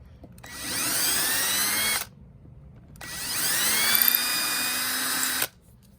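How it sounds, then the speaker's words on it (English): A power drill whines loudly in two bursts, about one and a half and two and a half seconds long, with a short pause between them, as the bit enlarges a hole in a door for a striker plate. "drill out that hole a little bit bigger."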